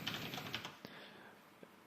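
Someone typing on a computer keyboard: a quick burst of close, faint key clicks in the first second, then a couple of isolated taps trailing off.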